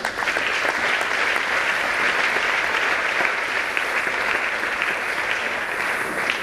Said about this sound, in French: Est-ce que vous pouvez applaudir pour elles?